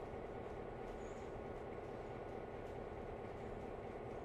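A diesel locomotive in the Run 8 train simulator works its way through a curve, its engine giving a steady, loud, unbroken rumble from start to finish with no talking.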